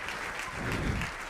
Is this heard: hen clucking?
no